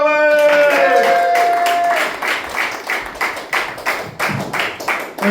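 A pub comedy-night audience claps and cheers as a comedian is introduced, loud mixed applause with whoops over fading music at first, then thinning into uneven bursts of clapping.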